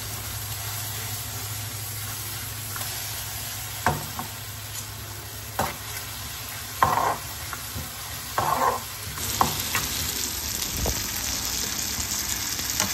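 Long-cut vegetables for bharaleli vangi cook in a pan with a constant sizzle, broken by several scraping stirs and clatters that grow busier toward the end, close and without voices.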